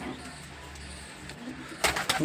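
Soft, low pigeon cooing close by, followed by a brief burst of rustling or handling noise near the end.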